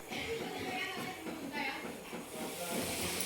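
Homemade chili powder and onion-garlic masala fry in oil on a slowed gas flame for mutton rassa, a steady, close hiss of sizzling that holds evenly throughout.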